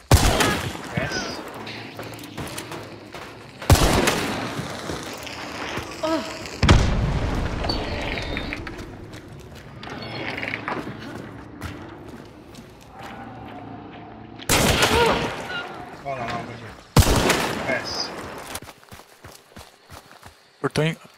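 Sharp gunshots from the video game Hunt: Showdown, a handful of loud isolated blasts spaced apart with bursts of footsteps and movement between, while players talk over the action.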